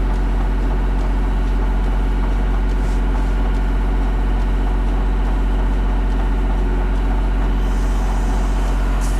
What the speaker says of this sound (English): Got the lathe in back gear. I'm going to go a 1/4 inch deep as well.